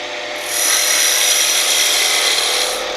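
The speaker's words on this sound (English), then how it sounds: "small cuts, simply raising the handle, using just the tip of the skew." A steady, bright shaving hiss of a skew chisel tip making small cuts on wood spinning on a lathe, rising after a brief quieter start and holding evenly for a few seconds.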